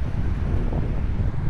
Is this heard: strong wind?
yes